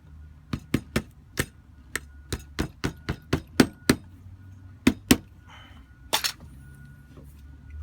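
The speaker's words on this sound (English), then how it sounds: "Use a rubber mallet." Sharp single taps struck one after another at an uneven pace, dull knocks of a rubber mallet on a metal pin while reassembling an Edgun Lelya air rifle trigger, close by with quiet gaps between.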